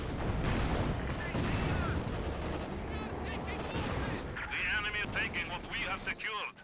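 In a Company of Heroes battle, a T-34 tank's hull machine gun fires rapid bursts amid dense gunfire and explosions, with chaotic combat noise throughout.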